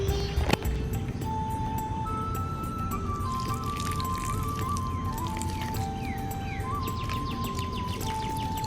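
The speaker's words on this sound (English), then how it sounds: "I'm gonna water these green onions." Water trickles and drips steadily onto potted green onion plants being regrown from their roots, a soft continuous pour with wet splashes, while faint bird chirps sound in the background.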